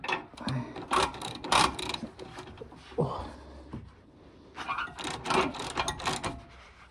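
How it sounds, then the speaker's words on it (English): Ratcheting and clicking of a wrench tightening manifold bolts on a Mazda MX5 NC, in irregular quick bursts with short pauses, close up. "Just tighten up now."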